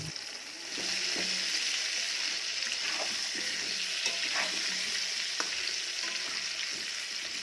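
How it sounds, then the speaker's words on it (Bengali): Potatoes fry in oil seasoned with salt and turmeric, a steady close sizzle with occasional spatula scrapes and light knocks against the pan throughout. "আলুগুলোকেও ভাজার সময় খানিকটা নুন আর একটু হলুদ দিয়ে ভেজে নেব।"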